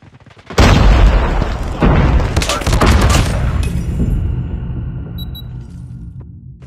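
Frag grenade explodes in Call of Duty Mobile during a ranked hardpoint match: a loud broadband blast with follow-up gunfire bursts and a lingering rumble that slowly decays.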